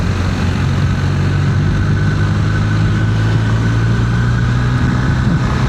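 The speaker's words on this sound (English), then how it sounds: "Every BMW that I hear, you can hear the gears." A BMW R1250R motorcycle engine runs steadily just after a big service and new tyres, a loud, close, continuous mechanical drone with audible gear whine and no talk.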